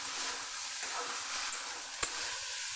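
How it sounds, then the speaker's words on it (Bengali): Okra frying in oil in a home kitchen pan, a soft continuous sizzle with a faint stir or tap near the end, quiet and close with no talk. "তেলের মধ্যে দিয়ে ভেজে নিতে হবে।"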